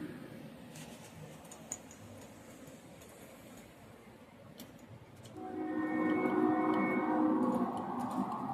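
A model train representing an Amtrak runs on a layout, its low mechanical rumble and whir swelling louder partway through as it comes closer, with faint ticks and clicks above it.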